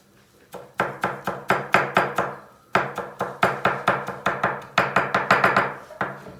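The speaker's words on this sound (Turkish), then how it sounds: "Bir de soğanı çok ince doğramanız lazım. Aynı şekilde maydanoz ve dereotunu." Onion, parsley and dill are chopped very finely with a knife on a board, in quick rhythmic close knocks in several bursts separated by short pauses.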